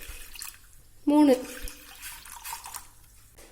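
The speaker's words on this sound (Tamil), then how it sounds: "அடுத்ததா ஒரு பாத்திரத்துல நம்ம அளந்து எடுத்த கிண்ணத்தாலேயே 3 கிண்ண அளவுக்கு தண்ணி எடுத்துப்போம்." Water splashes briefly into a cooking pot as a few bowlfuls are added for rice kanji, a short burst followed by faint drips, with a voice talking around it.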